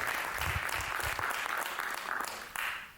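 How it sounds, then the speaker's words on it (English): An audience at a radio station tribute and reunion event applauds the moderator and panelists with sustained, fairly distant clapping and a few louder individual claps, tapering off at the end. "Let's give them a big round of applause before we go any further."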